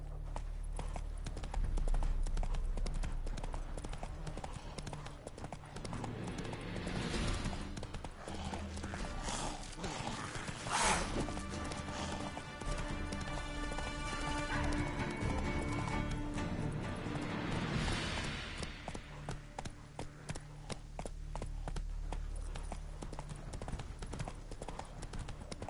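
Roach, the horse from the video game The Witcher 3, gallops with a steady, rhythmic clip-clop of hooves that carries on for the whole stretch, loud and close, with a whinny mixed in.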